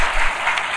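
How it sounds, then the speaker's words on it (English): A brief burst of audience applause with hooting and hollering at a school scholars night event, a dense wash of clapping and cheers heard close and loud for under a second. "I heard some hooting and hollering in there."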